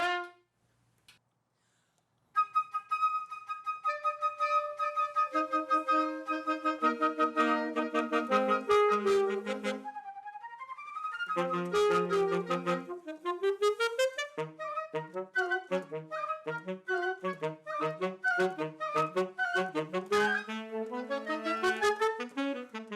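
A trombone plays a run of notes, with slide movement shifting the pitch between them, a pause partway through and then a livelier, faster passage, all clear and close with no talking over it.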